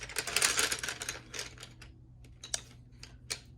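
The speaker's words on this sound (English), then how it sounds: "Going through some color pencils." Dry clattering and clicking of colored pencils being rummaged through, busy at first, then thinning to a few sharp isolated clicks.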